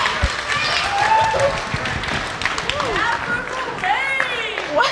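Audience at a school talent show applauding and cheering for a performer, with steady clapping, whoops and chatter from a nearby crowd, and a voice speaking over the noise.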